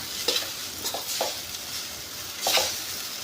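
Garlic fried rice stir-fried in a pan, with steady sizzling and a few scraping stirs of a utensil against the metal, close up and alone without talk.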